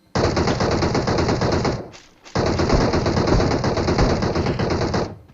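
Automatic rifle fire in the shooter game PUBG Mobile, two long loud sustained bursts of rapid gunshots split by a brief pause, dense and close with no voice over it.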